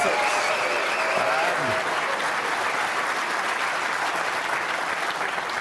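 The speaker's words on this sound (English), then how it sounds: "the extra round of applause" Sustained audience applause fills a snooker hall at the World Championship at the Crucible, a steady, dense clapping from the crowd that holds evenly throughout.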